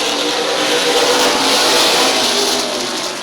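Super Cup stock cars racing at Midvale Speedway, engines roaring loudly as they pass close by, swelling then fading slightly in a continuous rush.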